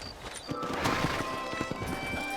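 Horse hooves clip-clop at a steady trot in the Red Dead Redemption video game, rhythmic thuds up close over a low ambient bed.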